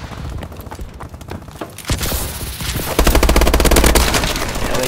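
Rapid automatic gunfire from a video game gun bursts out loud and close. Sustained rattling volleys build heavier after a short lull and carry through to the end with no talk.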